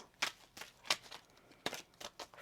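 Tarot cards being shuffled by hand, a handful of quick, faint papery riffles and flicks spaced unevenly over a couple of seconds, close and quiet.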